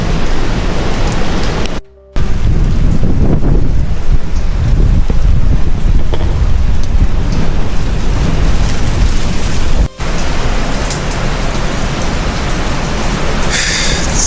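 Hurricane Melissa lashes Jamaica with torrential rain, a loud, unbroken roar of downpour and wind with heavy low rumble, briefly cut out twice, and no one speaking.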